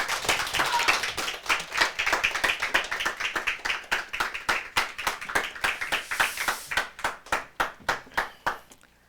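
A church congregation applauds to welcome a visiting pastor to the pulpit: dense, close clapping that thins out toward the end into separate rhythmic claps.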